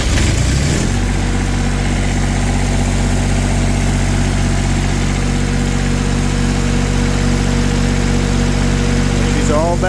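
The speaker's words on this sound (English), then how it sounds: "And then crank it." A diesel engine fresh from an oil change turns over after its glow plugs warm, catching at the start and then settling into a steady, loud, rumbling idle that runs on without a break.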